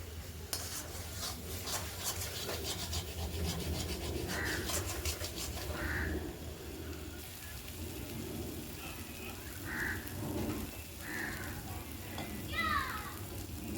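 Spice masala for chicken fries and is stirred in a pan, giving a steady, close sizzle that runs the whole time, with scraping stirs and occasional faint voice sounds.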